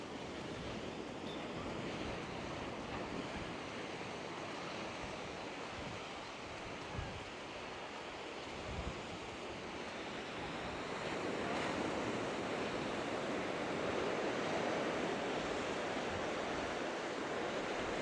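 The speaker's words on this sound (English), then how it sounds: "Good surf today because of the wind." Surf rolls and breaks continuously on a dark-sand beach in northern Lanzarote on a windy day, a dense steady wash of waves with wind rumble, swelling slightly louder in the second half, with no voices.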